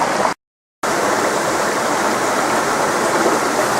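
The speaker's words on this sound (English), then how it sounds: "Tell you, nothing more refreshing than stream water." Steady rushing of stream water flowing in the bush of the Soraku District, close and continuous, with a brief dropout near the start and no voices.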